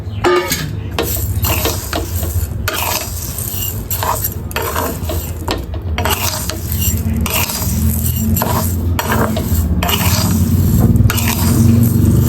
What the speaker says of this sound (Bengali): ডাল চাল ভালোভাবে ভেজে তারপরে খিচুড়িটা করব